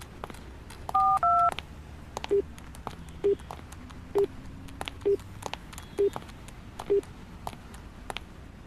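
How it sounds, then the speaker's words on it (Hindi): A phone is dialled with a couple of quick keypad tones. A steady series of short, evenly spaced beeps about once a second follows, clear over a quiet room background. "मैं कॉटेज के केयरटेकर को कॉल कर रहा हूं, लेकिन उसका फोन ही नहीं लग रहा।"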